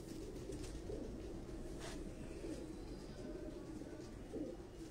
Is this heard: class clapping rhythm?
no